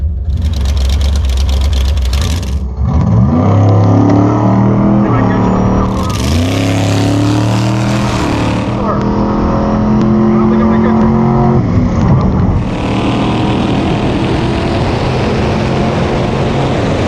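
Loud, roaring drag racing car engines rev and accelerate hard down a quarter-mile strip, with several surges and gear shifts, close by, over a continuous rumbling background.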